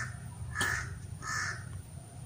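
Two loud, harsh crow caws, nearly a second apart, close by over a steady low background hum.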